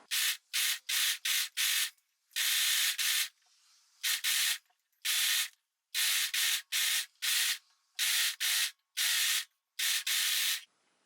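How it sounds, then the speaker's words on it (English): A sewing machine stitches the top seam of a scarf top, running in a steady series of short, loud, close bursts separated by brief pauses, with no talking. "and then I'm gonna start sewing."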